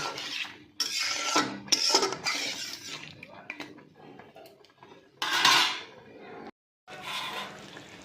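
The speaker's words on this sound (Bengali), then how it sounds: "আমি একটা ঢাকনা চাপা দিয়ে দিচ্ছি" A lid is set onto a pan of cooking prawns, with bursts of close metallic clattering and rubbing separated by short quiet gaps. No one speaks.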